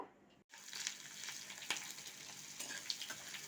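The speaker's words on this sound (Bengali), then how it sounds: "এই যে পেঁয়াজগুলো হালকা করে ভেজে নেব, বেশি লাল করে ভাজবো না" Onions frying lightly in oil in a wok, a steady close sizzle with soft crackles and a few sharper pops, starting after a brief silence and continuing alone.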